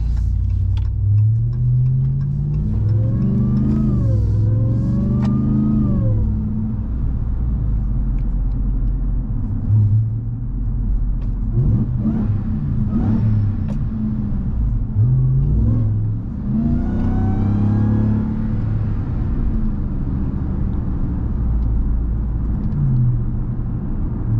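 A Ram TRX truck engine rumbles and revs repeatedly as it drives, deep and loud and close, with rising and falling pitch through the gears.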